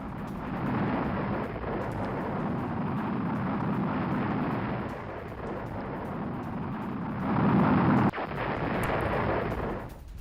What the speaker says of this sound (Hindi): यूक्रेनी पोजीशन पर रॉकेट से किया गया अटैक।